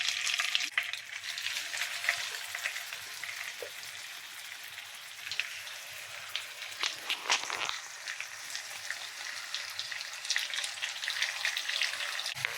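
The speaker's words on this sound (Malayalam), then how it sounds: "ഇനി നമുക്ക് ചിക്കൻ ഇട്ട് കൊടുക്കാം" Chicken pieces frying in hot butter for butter chicken, a steady close crackling sizzle that runs throughout with small pops and brief louder bursts.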